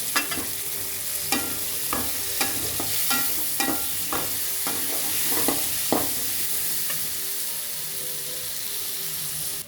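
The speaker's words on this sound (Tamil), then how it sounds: "இப்போ மாவத்தையெல்லாம் நல்லா வதங்கிடுச்சு." Dried mango pieces sauté in a pan for a tamarind-style kulambu, with a steady sizzle under repeated spoon-scraping and stirring knocks spaced through the first half, then a quieter fry to the end.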